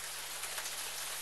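Heavy rain pours steadily outside tents at a forest campsite, a dense, even roar of drops drumming on surfaces, close and continuous with no voices.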